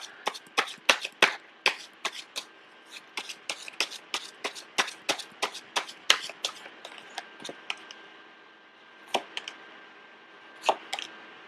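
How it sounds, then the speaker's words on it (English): Rapid bursts of tarot cards being shuffled and riffled, a quick series of crisp snapping flutters with brief pauses, close and clear with no talking. "I was sensing that when I was shuffling the cards."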